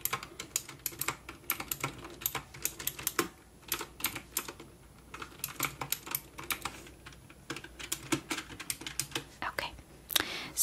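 Steady typing on a computer keyboard at a retro video game store counter while taking inventory, with clustered bursts of crisp close key clicks and short pauses, heard alone.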